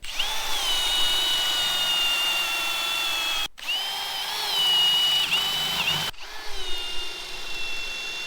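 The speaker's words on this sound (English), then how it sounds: "I will drill a hole on this post through each side" A power drill whines loudly and steadily, boring a hole through a wooden fence post in three long runs separated by brief pauses, its pitch wavering as it bores.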